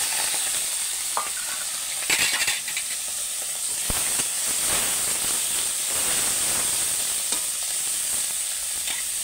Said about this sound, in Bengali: এবার চিংড়ি মাছ তুলে দেবো ওই তেলেতে।